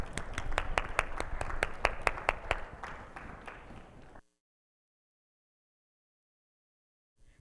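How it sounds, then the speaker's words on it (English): An audience at an esports conference session in Chicago claps as panelists walk on stage, a dense burst of hand claps that fades out after about four seconds into silence. "If you can just give a round of applause to each of them as they come up"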